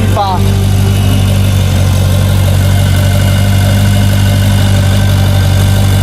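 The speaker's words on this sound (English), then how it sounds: "This is a V8 engine." A Ferrari V8 engine idles steadily up close, a deep even rumble with a low throbbing hum that holds constant throughout.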